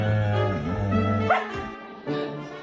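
A dog that has decided it's swimming season for everyone gives a short bark and whimpering yelps, heard close and moderately loud over a steady tonal background with no speech.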